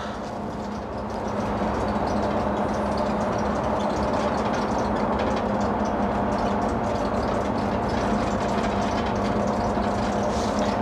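City bus on line 121 in Bergkamen drives along a street, its engine and rolling noise forming a loud, steady drone from the inside that swells after the first second and holds throughout.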